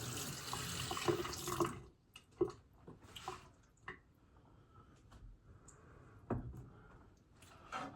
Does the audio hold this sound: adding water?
yes